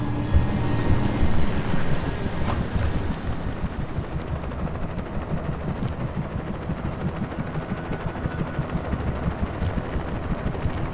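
A helicopter in the video game Alan Wake thrums with a steady, dense rotor roar that stays loud and continuous throughout, with no talk.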